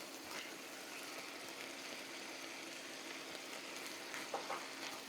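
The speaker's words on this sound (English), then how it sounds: "Now we got sizzle. That's a good sound." Ground beef and rice sizzling in a pan make a steady, moderate frying hiss, with a couple of brief louder crackles near the end.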